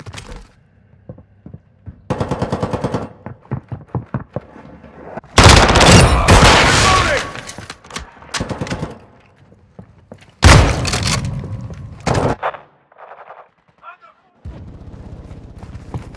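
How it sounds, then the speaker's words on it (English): Multiplayer gunfire in Call of Duty Modern Warfare 2, with bursts of automatic fire and single shots in sharp loud volleys between quieter gaps, mixed with game voice callouts. "Taking fire!"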